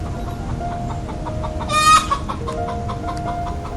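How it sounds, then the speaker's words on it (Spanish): A hen clucks and gives a short rising cackle, moderately loud over a steady background hum with faint softer clucks around it. "Canta la gallina."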